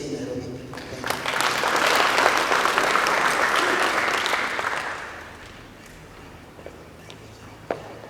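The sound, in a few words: audience applause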